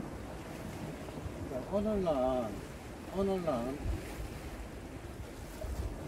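Strong sea waves roll at a rocky fishing spot at Gongsu village, Gijang, near Songjeong, as a steady, windy surf roar with gusts buffeting the microphone while someone talks briefly over it.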